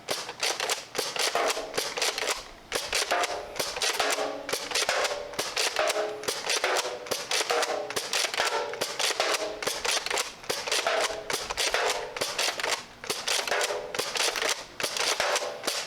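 Gunfire at an outdoor shooting range, a long string of sharp, closely spaced shots cracking out one after another in rapid bursts with only brief pauses, loud and steady throughout.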